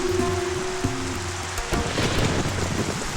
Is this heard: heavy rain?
yes